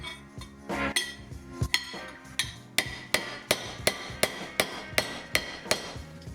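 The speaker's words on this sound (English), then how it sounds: "we're going to use our ball peen right here to start in on hammering" A ball peen hammer strikes a copper bracelet in a quick, sharp series of metallic taps, irregular at first and then settling into a steady even rhythm, close and clear with no talking.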